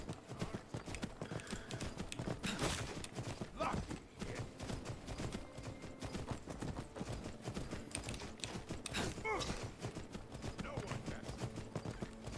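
Horse hooves clip-clop steadily in a Skyrim-style fantasy game, a rhythmic run of hoofbeats at close range under ongoing chatter and game noise, with some mechanical clatter mixed in.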